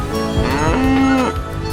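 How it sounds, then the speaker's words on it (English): A cartoon cow from a children's animal painting animation gives one loud, drawn-out moo, clear and close with no talk over it. "Cow."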